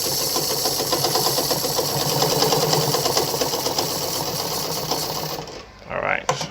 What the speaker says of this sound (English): All right, so I'm gonna sew through now.